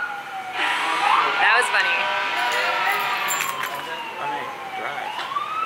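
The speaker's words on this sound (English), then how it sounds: "Here comes the ambulance" A wailing ambulance siren sweeps up and down as it passes near a slowpitch softball game, loud and steady throughout, while people chat close by over it.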